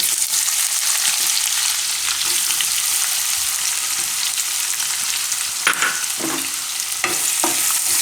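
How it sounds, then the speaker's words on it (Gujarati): Long-sliced onion fries in oil with curry leaves, garlic and asafoetida, giving a steady close sizzle, with a few stirring scrapes near the end and no talking. "ડુંગળી થોડીક વાર તેલમાં પાકવા દઉં"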